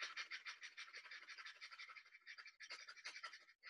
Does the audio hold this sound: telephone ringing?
no